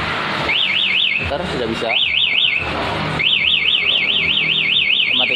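Anti-theft alarm on a 2020 Yamaha NMAX motorcycle wails in loud, rapidly warbling bursts, pausing briefly between cycles, with someone talking over it.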